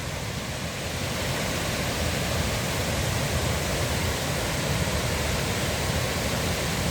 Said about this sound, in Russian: Вышел на водопад.